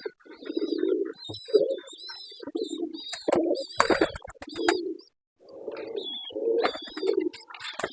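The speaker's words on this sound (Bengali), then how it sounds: "এগুলো আমার পোষা কবুতর" Pet pigeons coo repeatedly in close, throaty bursts with a steady rhythm, joined by occasional chirps and a brief wing flutter, with no talk over them.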